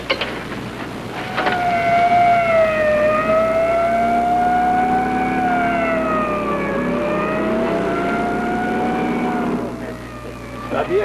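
A wailing siren rises and falls steadily over engine noise, loud and close, continuing for several seconds.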